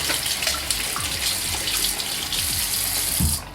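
Water hisses steadily into a sink from a tap or the nozzle of a cordless water flosser, a continuous close rush of spray that cuts off abruptly at the end.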